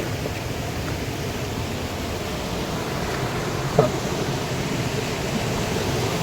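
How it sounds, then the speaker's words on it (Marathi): Loud, steady roar of rushing water at a river gorge in the rainy season, a dense continuous wash of noise from start to finish with no voices over it. "पाण्याचा आवाज कसला भारी यायला लागलाय"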